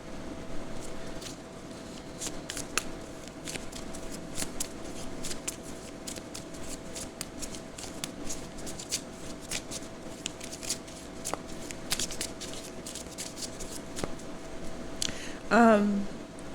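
Mystic Shaman tarot cards are shuffled by hand, giving faint, soft repeated riffling and slapping taps over a quiet room hum. A brief higher sound comes near the end.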